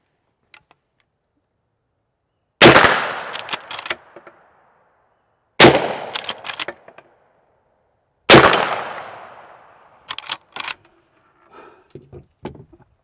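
A Marlin Model 1894 lever-action rifle loaded with cast bullets fires three loud, sharp shots several seconds apart, each followed by the metallic clack of the lever cycling, in an otherwise quiet setting.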